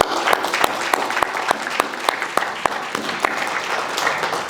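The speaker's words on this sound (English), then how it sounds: "So a round of applause for our panelists and for Mohammed." Audience applause for a panel of speakers at a job fair event, a steady patter of many hands clapping throughout with sharp individual claps standing out, fairly close and sustained.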